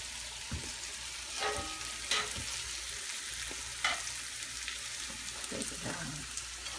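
Corn dodgers fry in hot oil on a home stove, giving a soft, steady sizzle with scattered crackles, clicks and light utensil knocks, fairly quiet and close, with no talking.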